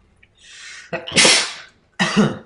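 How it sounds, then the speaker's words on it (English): A sharp, breathy sneeze up close, preceded by a drawn-in breath and followed by a second explosive burst. "sorry, I almost sneezed there."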